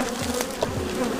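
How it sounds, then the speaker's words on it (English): Honey bees buzzing close by around a hive during a colony removal, a dense, continuous drone with small swells as individual bees pass near. "Oh, look at them bees."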